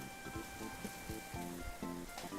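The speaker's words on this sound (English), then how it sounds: "It's raining again." Rain falling outside an open window, faint patter and drips on surfaces at a low level, steady throughout a short stretch.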